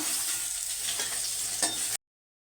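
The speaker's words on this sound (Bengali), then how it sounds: "আমি মাছ ভেজে নেব, মাছের মাথা ভেজে নেব।" Fish head and eggplant frying in oil, a dense continuous sizzle with a light stirring scrape, close and steady before cutting off abruptly.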